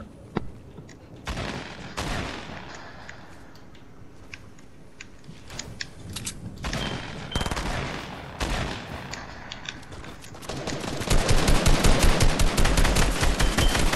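Gunfire in Fortnite, heard as rapid bursts of shots with short gaps between them. A long, dense automatic volley near the end is the loudest part, and there is no talk.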